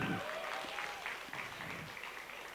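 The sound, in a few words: audience applause in auditorium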